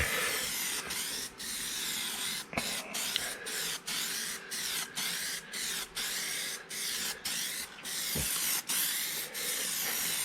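Final coat of peelable coating sprayed from an aerosol can onto car trim on a Ford Explorer: a steady close hiss broken by brief pauses as the nozzle is released and pressed again, with no talk.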